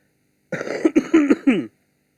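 A person who is still unwell coughs and clears their throat in a short burst of four or five rough, close hacks lasting about a second, alone against silence.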